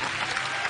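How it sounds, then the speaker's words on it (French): Brief burst of audience applause on a French variety game show stage, steady and loud, a dense wash of clapping with no voices over it. "on peut les applaudir très très fort"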